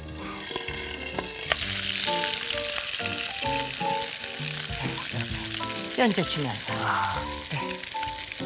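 Beef searing with a splash of soy sauce in a hot pan, cooked like a steak, giving off a steady, close sizzle and frying hiss with stirring clatter while people talk over it.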